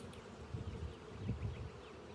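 Honeybees buzzing steadily at a hive after a swarm, a dense low drone of many wings close by, swelling slightly around the middle and continuing without pause.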